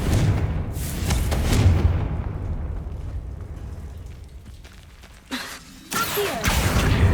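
Explosive spell in Hogwarts Legacy, a heavy rumbling blast that fades over a few seconds, then two sharp, loud bursts close together near the end.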